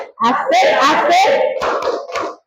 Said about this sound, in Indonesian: Tepuk semangat pagi.